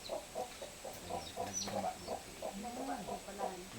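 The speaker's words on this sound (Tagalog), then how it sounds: "Tingnan ka manok." A chicken clucking in a quick, steady rhythm of short calls, on a mountainside in Oas, Albay, with people talking nearby throughout.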